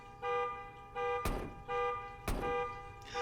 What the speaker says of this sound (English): Stop kicking the car!